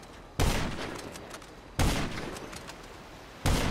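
Gunfire in GTA Online during a beach one-on-one fight: three loud, separated bursts of shots, each a sharp crack trailing into a short rumble, with quieter gaps between them.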